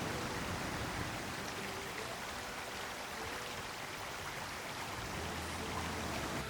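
A mountain stream rushes steadily through a ravine, a dense, even roar of running water that holds at the same level throughout with no voices.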